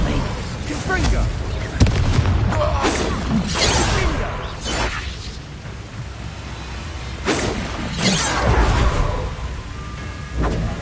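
Confringo, an explosive spell from the video game Hogwarts Legacy, goes off as a few heavy booming blasts spread through the clip. Battle noise and voices fill the gaps between them.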